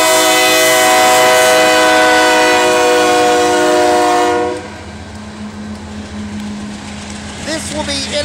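A Norfolk Southern autorack train of empty cars, led by a Union Pacific AC44 diesel locomotive, passes at Mableton, Georgia. A loud, sustained horn chord blares first, then fades into a steady rumble of passing cars with squealing wheels.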